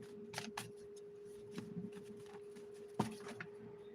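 Tarot cards are shuffled in soft, quiet flicks and riffles that come at uneven intervals over a faint electrical hum, with one sharper snap near the three-second mark.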